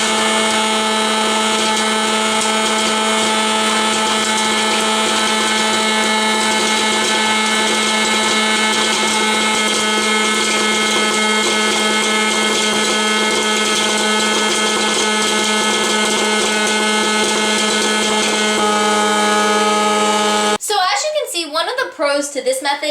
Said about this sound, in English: this one is kind of loud too, which can also be a little annoying. But basically it just runs and runs and runs